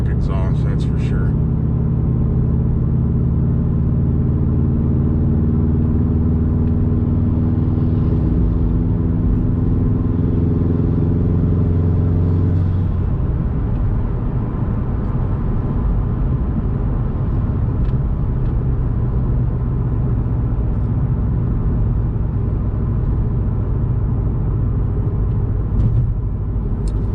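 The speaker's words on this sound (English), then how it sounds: "Definitely sounds better than the stock exhaust" A Subaru STI fitted with an aftermarket exhaust is driven, its loud, steady low drone holding for several seconds before breaking into a rougher, broader rumble that carries on to the end.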